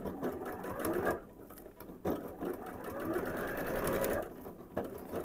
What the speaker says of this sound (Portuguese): e vou fazer a minha costura